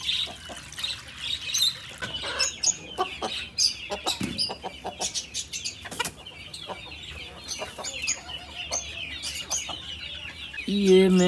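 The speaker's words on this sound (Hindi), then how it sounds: "हमारी मुर्गिया काफी ज्यादा भूखी है और ये अली बाबा 40 चोर चूजे वगैरह सब कुछ बहुत ज्यादा शोर कर रहे हैं" Hungry chickens and chicks on a farm clucking and cheeping loudly and continuously, many birds overlapping in busy, irregular calls, with a voice speaking faintly underneath.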